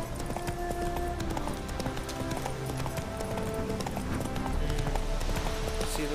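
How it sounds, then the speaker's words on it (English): Horse hooves clip-clop steadily while riding through the open world of the Witcher 3 video game, a continuous even trot under ambient game music and background sound, with no talking. "Giddy up. We must search for a shortcut. Yes. Oh, my trusted steed."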